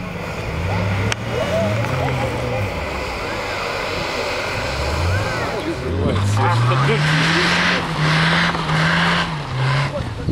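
Off-road cars on off-road tires driving through muddy ruts, engines rising and falling in pitch as they strain, with a voice talking over them.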